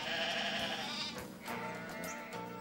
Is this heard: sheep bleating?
yes